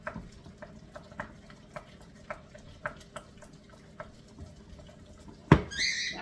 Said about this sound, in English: You see what happens as I beat that egg in?